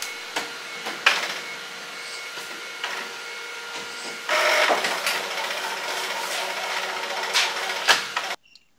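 An Epson L3210 inkjet printer whirs and clunks through its startup cycle, with mechanical clicks, a louder motor run midway, and a sudden stop at the end.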